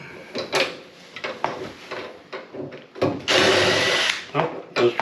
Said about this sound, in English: So these screws here, I take them all the way up.